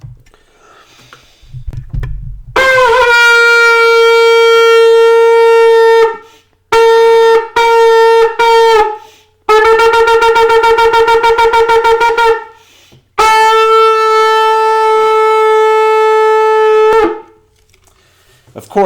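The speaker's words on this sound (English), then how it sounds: "those are the sounds of the shofar" A shofar blasts a series of loud, piercing calls: long sustained blasts, a few short staccato bursts, and a rapid trembling stretch, with brief silences between.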